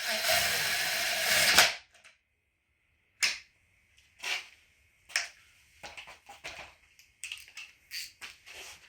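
A hand ratchet tightens a chain tensioner bolt on an Equinox engine in a home shop, giving short bursts of sharp clicks separated by pauses, after an opening stretch of loud hissing noise.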